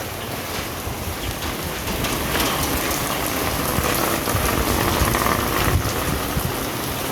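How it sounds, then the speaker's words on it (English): Heavy rain pours steadily onto a narrow alley in Vietnam, a dense, even hiss of drops spattering on wet ground that swells slightly midway and continues without any voices. "It's been raining like this"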